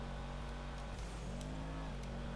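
A sports car engine, the HSW Woodlander in the video game GTA 5 Online, roars steadily at high revs, a loud continuous drone with a slight pitch rise as it accelerates.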